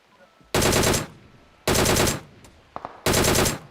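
Three loud bursts of automatic gunfire ring out in the PUBG Mobile shooter game, each lasting about half a second, with brief quieter pops between them.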